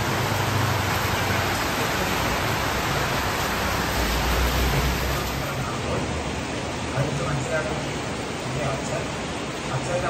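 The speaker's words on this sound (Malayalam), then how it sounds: "ഭയങ്കര മഴ." Heavy rain pours down in a steady, dense roar, loud and unbroken throughout with no distinct drops standing out.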